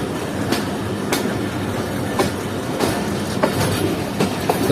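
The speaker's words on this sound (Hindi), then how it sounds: "ट्रेन अप्रोच कर रही है रावलपिंडी जंक्शन रेलवे स्टेशन पर" The Jaffer Express rolls into Rawalpindi Junction station, wheels clattering over rail joints in irregular clicks under a steady rumble from the cars, fairly loud and close, with no talk.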